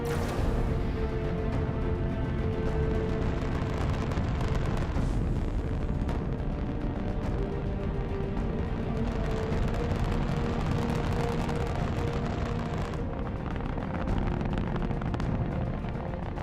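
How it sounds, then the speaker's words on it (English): Saturn V rocket lifting off from the pad at Kennedy Space Center, a continuous loud, dense roaring rumble that holds steady throughout, with crackling texture and no voices. "It's just like daylight here at Kennedy Space Center as the Saturn V is moving off the pad."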